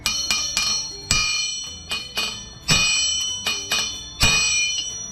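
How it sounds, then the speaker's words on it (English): Steel chisel struck against a Storm Vulcan 396 crankshaft on its low side to peen it straight: a series of about eight sharp, ringing metallic hammer blows at uneven intervals, each with a bright bell-like decay, loud and close with no talking. "We're going to strike it right here on the low side, just with this chisel right here."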